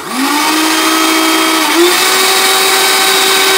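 An Arno Optimix Plus 150-watt blender, in good working order, spins up quickly into a loud, steady whine and runs continuously, with a brief pitch bump partway through.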